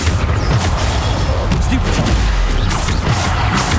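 Bombarda explosion spells going off in the Hogwarts Legacy video game, with repeated loud booming blasts and crashing impacts in a continuous, intense barrage, and a voice talking over the combat.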